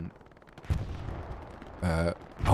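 Artillery and gunfire in Hell Let Loose during a 49v49 tournament battle: a few heavy booming bursts, one with a droning ringing tail, over a steady rumbling background of distant combat.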